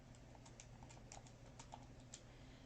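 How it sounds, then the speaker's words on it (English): Keys tapped on a calculator in a quiet room, a quick irregular run of soft, faint clicks over low steady background hum, with no talking. "So I'm just typing this into my calculator."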